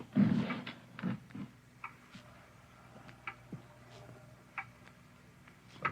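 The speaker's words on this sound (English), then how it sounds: "It's a loud clock, ain't it?" A loud clock ticks in a quiet room in a 1950 radio drama, with sharp, evenly spaced clicks that stand out against near silence and a few heavier knocks early on.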